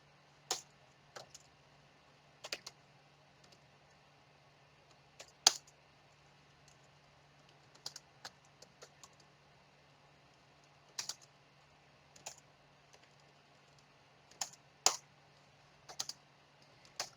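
Keys on a computer keyboard are tapped while writing code: scattered short bursts of clicks separated by pauses, quiet and close over a faint steady hum.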